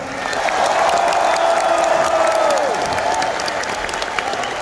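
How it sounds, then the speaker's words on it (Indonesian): Loud, sustained applause from a big rally crowd at a Gerindra anniversary event, steady clapping that builds quickly and holds, with a faint voice or tone drifting across it midway. "Tepuk tangannya kurang semangat."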